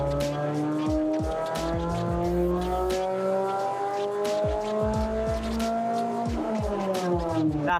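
A Suzuki Swift Sport ZC31S on a dyno winds its engine up through the revs in a loud, continuous climb with rising harmonics and brief dips, heard close with no talking.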